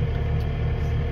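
Inside the cab of a 2024 Kubota SVL75-3 compact track loader, the engine runs with a steady low hum and rumble, even and muted, no talking.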